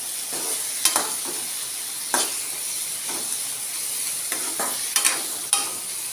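Green chillies and curry leaves sauté in a pan with onions for beef chops, giving a steady close hiss of frying under a few sharp scraping stirs and clacks, with no voices.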